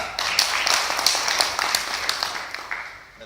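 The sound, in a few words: audience applause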